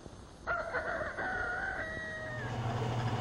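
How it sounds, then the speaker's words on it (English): A rooster gives one clear, fairly close crow in the early morning, with softer clucking from chickens underneath and after it. "Very early in the morning, the rooster sends out his call, and the chickens begin to wait."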